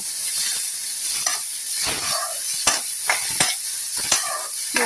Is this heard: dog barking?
no